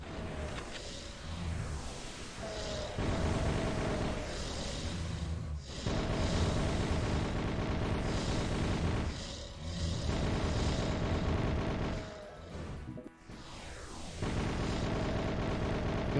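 Fireballs and gunfire in a FreeDoom first-person shooter firefight: loud, dense bursts of shots and booming impacts repeat almost nonstop with whooshing projectiles, the noise briefly dropping in a few short gaps.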